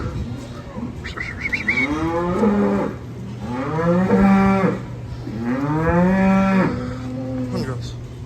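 A white heifer and her newborn calf in a maternity pen give three long, drawn-out moos, close and loud, one after another with short pauses between them, over a steady low hum.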